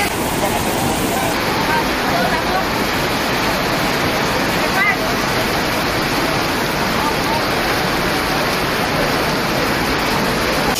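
Floodwater pours along a road that has turned into a river in Butuan City, making a loud, steady rushing roar close by that goes on without a break.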